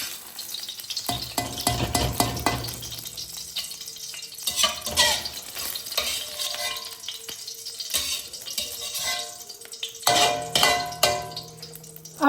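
Egg frying in oil in a home kitchen pan, with a steady sizzle broken by scraping and stirring of a utensil and occasional metal clinks, close and fairly loud throughout.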